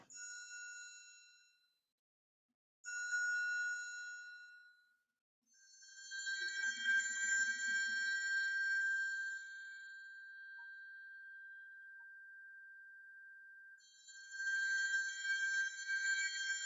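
Struck metal triangle ringing in separate strokes with long, bright, sustained decay, notes spaced apart and one tone held for several seconds, clear and fairly close, no voices.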